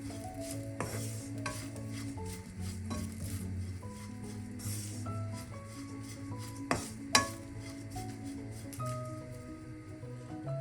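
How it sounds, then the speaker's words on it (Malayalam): Spices and masala powder are stirred and scraped around a hot pan, roasting with a soft, steady sizzle, with occasional clinks of a utensil against metal. "ഇത്രയും ഒന്ന് ചേർത്ത് എല്ലാം കൂടെ ഒന്ന് വറുത്തെടുക്കാം."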